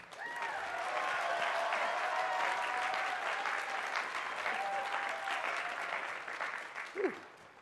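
A large audience claps steadily for a speaker walking to the podium at a university engineering commencement, with a dense roar of applause that slowly thins, plus a few cheers and whoops over it.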